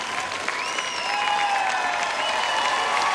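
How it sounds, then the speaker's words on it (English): Steady crowd applause fills the space, dense clapping with a few shouts rising through it, loud and sustained throughout. "make some noise right now."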